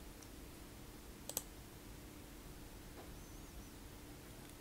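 Mouse clicks on an OK button in a Linux Mint installer, two faint quick clicks close together followed by a softer one, heard over a steady hiss of background noise.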